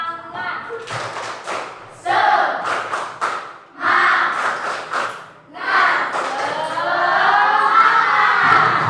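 A classroom of students performs a rhythmic spirit clap during an icebreaker in an Islamic history lesson, bursts of sharp group claps alternating with loud, shouted unison chanting, close and lively.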